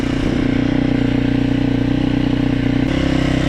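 A KOVI Lite 250 air-cooled motorcycle engine runs on choke after a cold winter start, holding a loud, close, even idle with a rapid throbbing pulse and a slight change in tone near the end.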